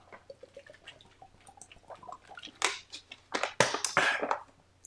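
Water dripping and trickling from a leaking bottle onto a wet desk, with a scatter of small drips building to a few louder splashy bursts toward the end.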